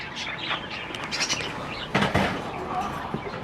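Small birds chirp and tweet in a home aviary holding albino and clear-wing birds, with scattered calls, a brief flutter, and a voice talking nearby.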